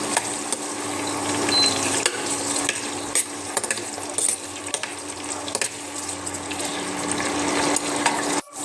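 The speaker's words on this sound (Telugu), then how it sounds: "మీడియం సైజ్ ఆనియన్ కట్ చేసి పెట్టుకున్నాను అండి, అది వేసేస్తున్నాను. ఒకసారి మిక్స్ చేస్తున్నాను." Chopped medium-sized onion fries and is stirred in a pan, making a continuous close sizzle with scraping utensil taps throughout, heard alone.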